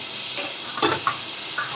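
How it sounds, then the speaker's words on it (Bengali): Meat dropped into hot cooking oil for a home-cooked Bengali dish, giving a steady sizzle and crackle with a few louder spits and bursts near the middle, close and alone with no talk. "তো দেখেন এখন আমি তেলের মধ্যে মাংস ছেড়ে দিলাম।"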